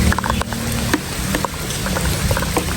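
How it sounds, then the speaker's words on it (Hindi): Stormy heavy rain pours in a dense, continuous hiss with scattered sharp drop-like patters, loud and close, with no voices. "इतनी बारिश, वाह भाई वाह।"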